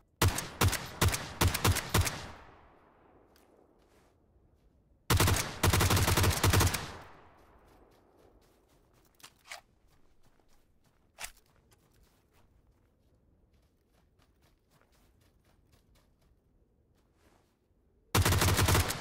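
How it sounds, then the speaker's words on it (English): Automatic gunfire in the battle-royale game PUBG, three loud rapid bursts of shots with echoing tails, separated by long quiet stretches broken by a few isolated single shots at a distance. "I noticed some guys shooting to my right"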